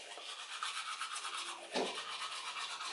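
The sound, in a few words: brushing teeth with a toothbrush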